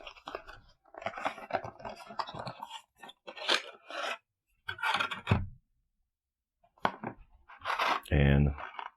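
Unboxing of an 8BitDo SN30 controller: crinkly packaging rustles, scrapes and cardboard handling between stretches of close talking, ending in a louder crunching rub.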